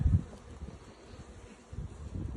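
Soft, steady insect buzzing from a crowd of honey bees at a hive, low and diffuse, with a few louder swells near the start and end.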